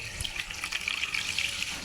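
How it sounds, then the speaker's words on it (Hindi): Water poured from a vessel into a thandai (sardai) mixture in a kitchen, a steady close splashing trickle with no voices. "ये देखिए, अब मैं इसमें थोड़ा सा पानी डाल लूँगा।"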